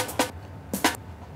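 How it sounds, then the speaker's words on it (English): Low end of a drum break isolated with EQ, two muffled kick-drum thumps with soft tails about 0.6 s apart, heard alone. "I've taken the bass part out of the percussion part"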